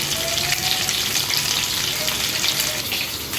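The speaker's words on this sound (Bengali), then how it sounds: "ভালো করে ভেজে নেব।" Katla fish frying in hot oil, a dense, even sizzle heard close and continuous with no talking.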